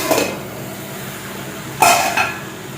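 A metal lid is lifted off a pot of methi bhaji (fenugreek leaves with dal) after simmering, giving two close, sharp clanks of metal on metal over a faint background hiss.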